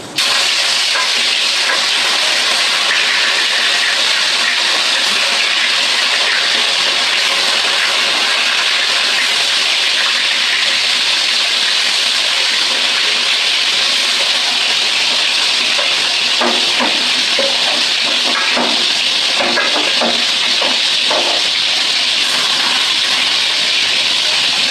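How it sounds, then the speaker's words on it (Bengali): Fish sizzle in hot oil in a pan for a Bengali home meal, a loud steady frying hiss with crackles and pops that thicken toward the end, heard alone without talk. "মাছগুলো আমি একে একে ভেজে নিচ্ছি বন্ধুরা।"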